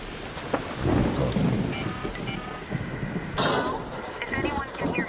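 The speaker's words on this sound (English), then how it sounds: "Beware the lightning strikes if you're outdoors." Thunder from an electromagnetic storm in a survival video game, a broad rumbling roll with rain and wind noise through the whole stretch and a sharper crack partway in, heard under a player's voice.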